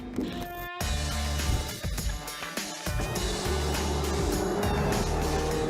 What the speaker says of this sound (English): I'm a rookie driving the Ferrari Challenge Trofeo Pirelli.